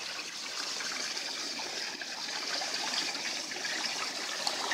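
Water runs steadily through a koi pond connected to other ponds, giving a continuous, fairly loud rushing trickle with no breaks and no voices.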